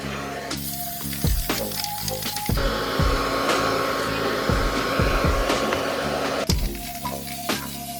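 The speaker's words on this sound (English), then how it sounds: "Gonna hit it with the blow dryer." A hair dryer blows with a steady, loud whooshing roar, drying paint on a Tamiya Hornet RC car body, switching on and off with some clunks and handling noise, close up.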